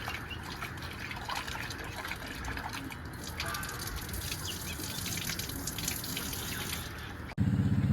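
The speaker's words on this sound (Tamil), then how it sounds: "இதாக பார்த்துக்கோங்க, கறியை கழுவியாச்சு." Meat is rinsed under running tap water, a steady close splashing gush with drips throughout, ending in a louder burst of flow near the end; no talk is heard.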